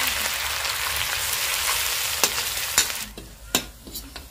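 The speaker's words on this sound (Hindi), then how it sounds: "इसको इसमें भून लेते हैं तड़के में।" Ginger garlic paste sizzles and crackles loudly as it fries in oil for a tadka, then quiets, with a few sharp scraping stirs of a utensil against the pan.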